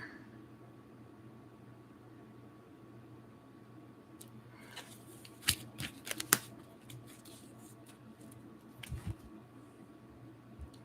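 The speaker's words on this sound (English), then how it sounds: "Just reshuffling the cards really quick." Cards are reshuffled quietly up close during a love reading, a few soft riffles and taps against a low room hum, with no talk.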